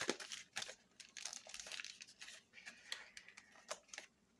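Crinkly plastic rustling and crackling in irregular bursts, close up, as fingers fumble with the stiff wrapper of a Pokémon trading card pack.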